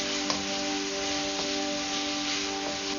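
Ginger garlic paste sautéing in a hot pan with cashews for a Tamil chicken curry, a steady close sizzle with faint stirring clicks, no talking.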